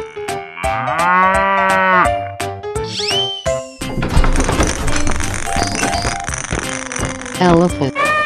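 Cartoon cow mooing, a long drawn-out low call in the first seconds, followed by dense, loud music and playful sound effects.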